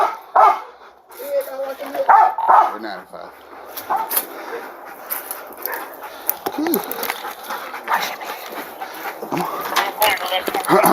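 A police dog barks and yelps repeatedly in bursts while people talk and shout over it, with a busy, noisy background.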